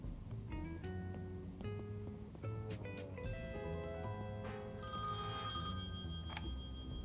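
A telephone rings in the Thimbleweed Park adventure game, a series of bright electronic bell tones chiming over a steady music bed with ambient noise beneath.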